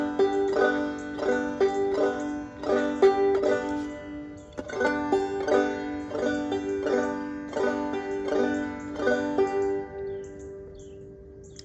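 A banjo played clawhammer style gives a steady, rhythmic run of bright strums, with a drone-string pluck added on every other offbeat. It sounds close and clear, with no talking.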